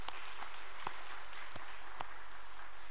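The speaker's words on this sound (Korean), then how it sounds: "큰 박수 격려 부탁드립니다" Applause from a church congregation honoring the choir, a steady wash of many hands clapping with a few sharper claps standing out, filling the space at moderate volume with no voices.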